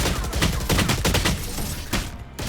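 Rapid bursts of video game gunfire crackle loudly and continuously for a couple of seconds while the player moves, shots stacking into a dense fusillade with only a short lull near the end.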